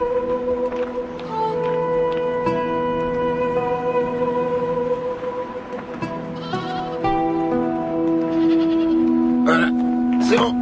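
A goat bleats repeatedly, loud and close, with several wavering calls overlapping one another across the stretch amid faint background noise.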